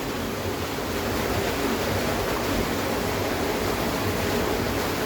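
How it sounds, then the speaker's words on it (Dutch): Steady broadband rush of water pouring through the artificial Los Tilos waterfall in the green laurel forest of San Andrés y Sauces, La Palma, a constant close roar with no voices. "hier loopt ook allemaal water doorheen"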